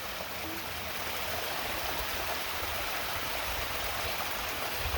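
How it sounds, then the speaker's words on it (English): Waterfall beside a canyon trail in Uvas Canyon County Park, a steady broadband rush of falling, splashing water that holds constant throughout without any break. "This is another waterfall"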